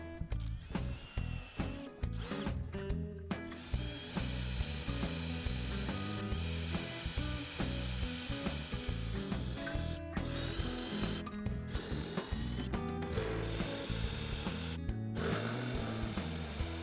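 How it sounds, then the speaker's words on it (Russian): Cordless drill driver drilling out stripped screws from an old Soviet-era wooden coffee table, with dense mechanical whirring and ratcheting bursts, close and continuous, broken by short pauses between runs. "сейчас возьму дрель шуруповерт и буду просто высверливать"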